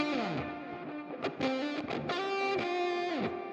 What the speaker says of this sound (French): Il y a la fuzz, on entend bien le delay, la reverb.